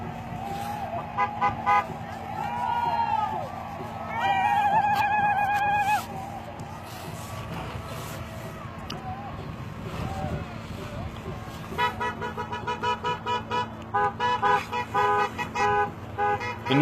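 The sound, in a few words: cars on a highway honking their horns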